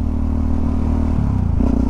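Yamaha XTX660 supermoto single-cylinder engine accelerating hard in second gear from mid revs, a loud close throaty drone with the pitch stepping up as it pulls, running steadily without pause.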